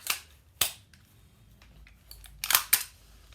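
A magazine is tapped to seat it into a WE Tech airsoft gun, giving a few sharp close plastic clacks: one pair near the start, then a quicker pair near the end, with quiet between.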